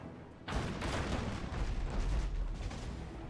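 A ship's mortars fire during a battle in the video game Abandon Ship, giving a dense, rumbling barrage of booms that starts abruptly and keeps rolling at moderate loudness.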